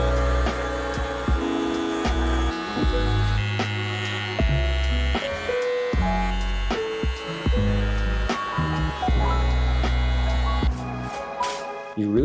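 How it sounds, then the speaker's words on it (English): Handheld electric rug shaver buzzing as it trims a freshly tufted rug, a steady electric hum with repeated short passes and brief pauses, close and loud throughout. "To clean up the lines, I used a shaver kit I bought from Amazon"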